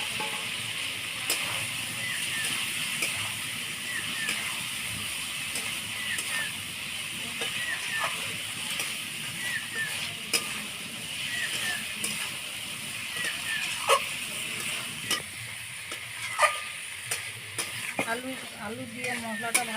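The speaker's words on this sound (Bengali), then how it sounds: "আলু দিয়ে মশলাটা ভালো করে কষানো হয়ে গেছে।" Potatoes stir-fried with spices in oil give a steady low sizzle with regular scraping and tapping of a spatula against the pan, growing more frequent toward the end, no talking.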